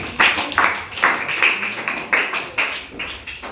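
An audience at a Ramayana rapid-fire quiz claps in separate, regular bursts about half a second apart, close and moderately loud, with no talking over the claps.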